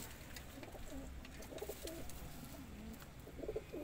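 Kasuri pigeons coo softly in a loft, giving repeated low throaty calls in a quiet, slightly noisy setting with no one talking.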